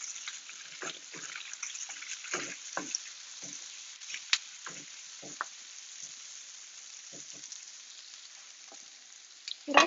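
Vegetables frying in a pan for a healthy breakfast, giving a steady soft sizzle throughout with scattered sharp crackles and pops, plus a louder clatter near the end.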